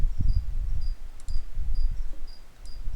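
Crickets chirp inside a toad's terrarium in short repeated trills, fairly faint against low background rumble and handling noise.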